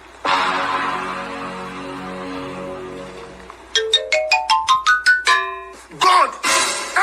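A mobile phone ringtone plays loudly and close by for an incoming call, first as a sustained tonal chime, then as a rapid rising sequence of bright repeated notes, alone without talk.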